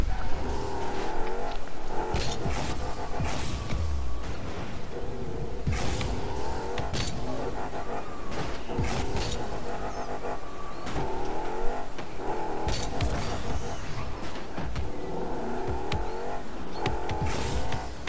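A car in the Rocket League soccer game drives and boosts while carrying the ball on its roof, a continuous revving engine roar with rocket-boost whooshes and frequent sharp thuds and clicks of ball touches, with no talking.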